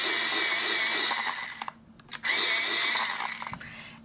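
An electric pencil sharpener grinds a colored pencil in two loud, close bursts of steady whirring, separated by a short pause, with no talking during it.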